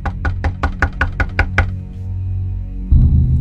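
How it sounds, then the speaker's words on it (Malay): Nine quick, evenly spaced loud knocks rap on a locked toilet door in a rapid burst, followed by a pause and a dull thump near the end, with no speech. "Ketuk-ketuk lagi."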